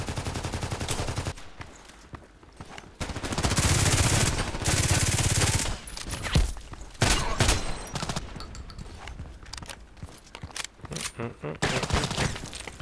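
Bursts of automatic gunfire in a deathmatch video game, with rapid fusillades and sharp individual shots coming in clusters, loud and dense, broken by brief lulls across the scene.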